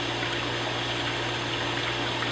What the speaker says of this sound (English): now I'm just going to continue with my water change